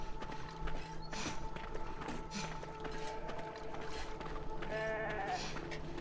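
In the Beyond Two Souls video game, a sheep bleats in one clear, wavering call near the end, heard faintly among soft background ambience.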